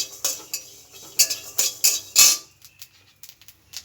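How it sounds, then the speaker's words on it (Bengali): Nigella seeds and garlic are dry-roasted in an oil-free pan, a spoon knocking and scraping the metal in sharp, uneven clinks that fade to light taps. "এগুলোকে আমি শুকনো খোলা একটু টেলে নেব"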